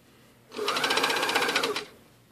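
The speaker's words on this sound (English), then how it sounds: "And then you just kind of sew around as you go" A sewing machine stitches around a garment's neck binding in one steady, close burst of rapid needle strokes lasting just over a second, with a quiet pause before and after.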